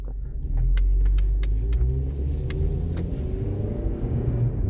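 A 2004 Honda Accord driving along, with a steady, close, low engine and road rumble throughout and a few faint clicks above it.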